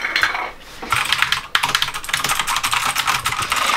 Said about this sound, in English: Gotta do my keyboard things